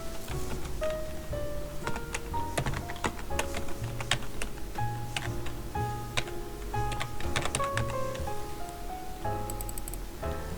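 Computer keyboard typing clatters steadily, a close, dense run of quick key clicks and taps over a faint background, with no voices over it.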